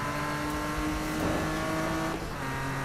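A BMW M3 E46 engine in Need for Speed 2015, played with a G27 steering wheel, holding a steady loud drone with a brief rise and dip in pitch as it revs.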